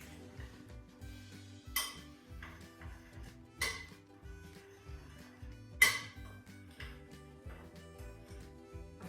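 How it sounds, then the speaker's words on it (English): Caster sugar and a pinch of salt stirred in a bowl, giving a few scattered clinks and scrapes of a utensil against the bowl over a steady low background hum. "So I'm going to give that a stir now."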